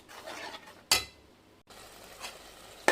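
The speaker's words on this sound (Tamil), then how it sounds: "கருவேப்பிலை போட்டுடலாம் போட்டு நல்லா வதக்கிக்கலாம் எண்ணெய் பிரியணும் அந்தளவுக்கு மசாலா வதக்கணும்" Mutton gravy masala with curry leaves sautéing in oil, a soft sizzle broken by two sharp scrapes of a spoon against the pan and a brief pause.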